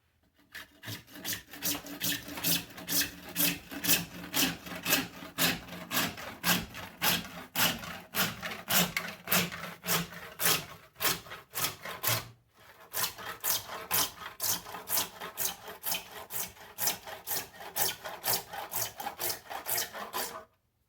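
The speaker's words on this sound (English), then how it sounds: "there's lots of ways to cut PVC pipe. I like my little Stanley toolbox saw." A 1 1/4 inch PVC pipe is cut with a small Stanley toolbox hand saw, steady back-and-forth strokes rasping close and clear, with one brief pause midway before the sawing resumes and stops.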